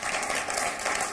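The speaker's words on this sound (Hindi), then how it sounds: "आपकी तालियां मुझे मिले।" Audience applause at a Hindi poetry recital on political corruption, a steady dense wash of clapping filling the whole moment at moderate volume with no voices over it.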